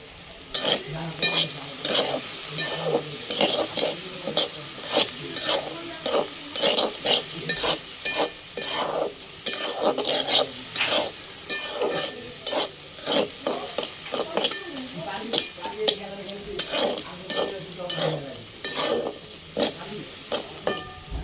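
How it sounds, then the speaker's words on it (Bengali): Wheat grains stirred and dry-fried in a pan over a wood-fired stove, giving a steady scraping stir with continuous crackling sizzle, close and moderately loud throughout with no talk. "চুলায় দিলাম গম, ডাল নামাইয়া এখন গমগুলো সুন্দর করে ভাজবো বিকালের জন্য"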